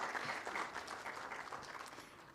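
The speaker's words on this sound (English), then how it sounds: "A huge, huge round of applause, please, ladies and gentlemen" A large audience gives sustained applause at a launch event, clapping continuously and fairly evenly throughout, heard from a little distance with no voices over it.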